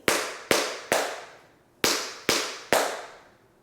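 Six sharp, ringing taps in an uneven rhythm, three quick then a pause and three more, each crisp strike decaying quickly in a quiet room.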